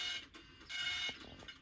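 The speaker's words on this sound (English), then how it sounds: "I think the printer doesn't know how to use your new paper, Ted." A printer in a Postman Pat animated story runs with uneven mechanical whirring and clicking bursts, moderately loud and alone, with no voices over it.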